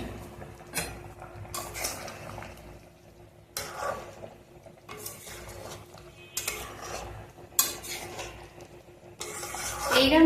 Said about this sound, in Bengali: এবার এটাকে নাড়িয়ে দিবি